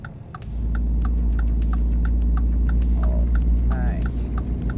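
Low, steady truck engine drone from American Truck Simulator while a long trailer is maneuvered into a parking spot, running continuously with a few light clicks over it.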